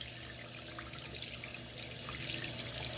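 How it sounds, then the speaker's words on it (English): Weak, low-flow water sprays from a kitchen faucet tap, a steady faint hiss and patter with no talk. "But see how the water's spraying?"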